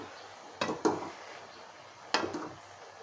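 Vegetables with water hyacinth flowers stirred in a cooking pot, with four sharp scraping clanks of a utensil against the pot over a soft background hiss, close and fairly quiet.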